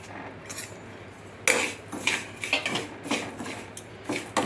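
Spices stirred in a pan, a run of clinks and scrapes from a metal spoon against the pan in uneven bursts, close and without talk.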